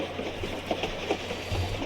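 Train rolling along a railroad track in the Tomb Raider IV desert railroad level, a steady rumbling hum with faint rhythmic clatter, continuous and moderately loud with no talking.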